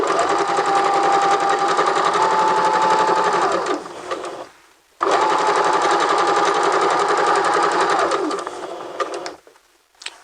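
A sewing machine runs a straight guide stitch at a 5/8-inch seam allowance in two long, steady runs of rapid needle chatter, each ending with a short stop, close and loud.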